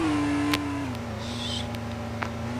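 Car engine in the video game Car Simulator 2, a steady, moderately loud engine hum whose pitch slides down then holds, with a few faint clicks and a brief higher whine over it.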